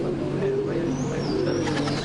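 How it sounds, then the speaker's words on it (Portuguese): Pigeons coo in a backyard, low soft repeated calls close by over a steady background hum, with faint voices mixed in. "o barulho dos pombos é bem alto"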